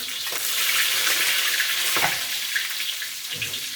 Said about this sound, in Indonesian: jintan putih, kita goreng